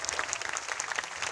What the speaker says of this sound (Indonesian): Yang percaya berikan tepuk tangan buat Tuhan.